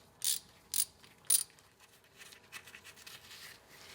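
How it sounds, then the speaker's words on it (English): A ratchet backs out transmission pan bolts on a Ford E4OD under a vehicle: three crisp, close clicking bursts in quick succession, then softer scraping and faint mechanical rattles. "So basically I remove all of the rear bolts first."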